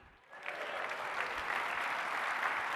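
A keynote audience at a 2021 summit bursts into applause, starting quietly and swelling within half a second into sustained, even clapping from a large crowd.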